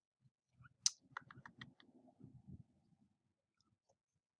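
A computer mouse and keyboard in use: a sharp click, then a quick run of lighter taps and clicks, followed by faint scattered ticks in an otherwise quiet room.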